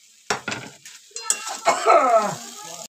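A spoon stirs a potato filling with nuts in a pan for shop-style samosas, giving scraping, clinking strokes over a light sizzle that swell and build toward the end, close and fairly loud, with no talk.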